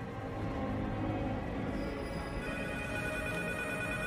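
A telephone rings in a horror movie trailer, a steady electronic trill held under a dense, loud wash of ominous music and rumble throughout.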